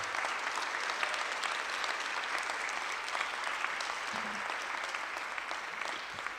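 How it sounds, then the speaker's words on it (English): Audience applause at a youth apprenticeship launch event in Buffalo, a sustained even wash of clapping from a crowd, heard at a moderate distance with no pauses. "So let's just give him one more round of applause."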